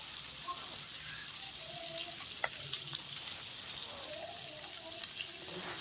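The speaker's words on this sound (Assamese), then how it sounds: "পিঁয়াজখিনি ভজা হ'ল, মাংসখিনি দি দিলোঁ। লগতে আদা নহৰুখিনিও দি দিলোঁ।" Pork fries in a pan with onion, ginger and garlic as a soft, steady sizzle under faint kitchen clatter and scattered small pops, quiet and close.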